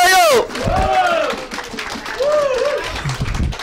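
An audience claps and cheers in a hall while a loud, close voice calls out over the top, the crowd noise rising in rough bursts beneath it.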